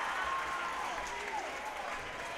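A basketball crowd gives faint, distant, continuous applause after a fourth-quarter dunk in a close game.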